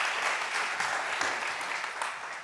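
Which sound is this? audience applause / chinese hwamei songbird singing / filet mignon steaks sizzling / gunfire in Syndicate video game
audience applause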